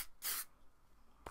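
Two short hissing bursts of a volumizing texture spray aerosol sprayed on hair, one longer and one brief, close by in a quiet room.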